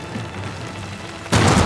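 Low rumbling ambience in Uncharted 4: A Thief's End, then an abrupt loud boom as a hut explodes near the end, continuing as a roaring blast.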